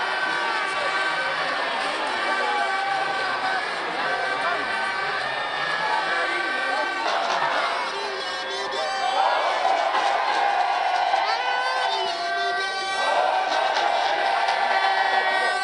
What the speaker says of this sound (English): Supporters who gathered at the airport sang solidarity songs and waved party banners